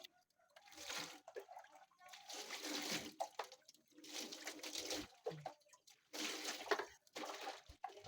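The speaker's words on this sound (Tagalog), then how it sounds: "Banlawan na natin tong sinelas niya at saka sapatos niya" Water splashes and pours in uneven bursts as slippers and shoes are rinsed, fairly close and moderately quiet, with short pauses between the washes.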